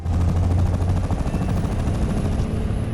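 A rapid-firing anti-aircraft gun on a Japanese ground vehicle in War Thunder fires a loud, continuous stream of shots that pulses steadily for the whole stretch with no pause.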